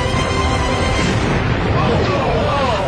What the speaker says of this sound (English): an explosion rocks the Cape.